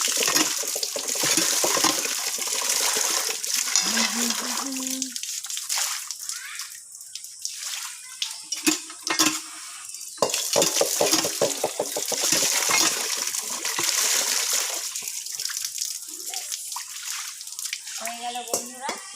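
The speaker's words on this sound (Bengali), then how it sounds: "আমার থালা বাসন ধোয়া কমপ্লিট" Dishes, plates and a wok being washed under running water, with splashing, sloshing and clinks of metal utensils close by and some brief pauses in the flow.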